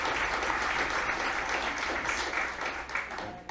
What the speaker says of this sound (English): can we just get one more round of applause for Betty Jo and Jim?